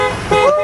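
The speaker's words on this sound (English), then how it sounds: "You know you want to honk." A truck horn gives one short, loud honk up close, a brief bright tone that slides upward and then holds.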